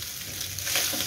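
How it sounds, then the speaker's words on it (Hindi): Cooked rice being stirred into vegetables in a pan for egg fried rice, a short steady sizzle with soft scraping of the stirring, close and moderately loud. "अब इनको मिक्स करेंगे सब्जियों के अंदर अच्छी तरह मिक्स करना"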